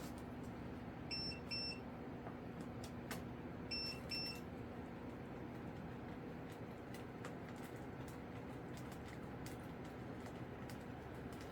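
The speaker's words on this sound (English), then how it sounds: "Sorry about that beeping, that's just the battery." Two quick pairs of high electronic low-battery warning beeps chirp faintly over a steady low background hum, then stop.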